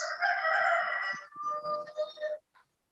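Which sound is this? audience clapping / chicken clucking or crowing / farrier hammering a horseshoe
chicken clucking or crowing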